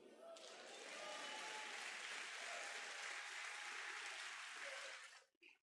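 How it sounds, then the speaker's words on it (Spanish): A church congregation applauding during a sermon, a full, even burst of clapping that swells quickly, holds steady and then cuts off near the end, heard at a distance and fairly quiet. "Que aplaudan."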